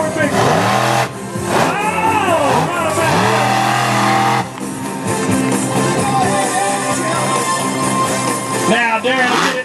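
Bigfoot monster truck engine roaring and revving at a wheelie contest in Ardmore, Oklahoma, loud and close with rising and falling pitch sweeps, several revs in succession amid a noisy outdoor crowd.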